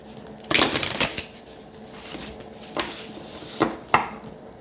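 Oracle card deck being shuffled and a card pulled, with a brisk riffling burst up front followed by a few sharper, separate snaps and flicks, close and clear with no talk.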